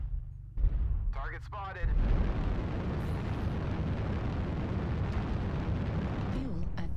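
A video game airstrike sets off a loud, continuous rumbling roar of explosions that runs through most of the clip after a short opening thump, with a synthetic radio-style voice speaking briefly over it.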